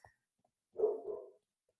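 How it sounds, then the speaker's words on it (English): A single short, muffled dog bark rings out faintly in an otherwise quiet space. "you can probably hear my dog barking"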